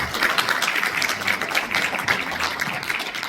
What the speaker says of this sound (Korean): 김봉철 교수님께 큰 박수 부탁드립니다